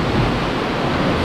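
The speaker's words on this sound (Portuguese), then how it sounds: "A água invade aqui violentamente," Sea water surges violently into a rock sea cave on Ilha das Cabras near Guarujá, forming a rapid. A loud, dense, rushing roar of churning water fills the short stretch without a break.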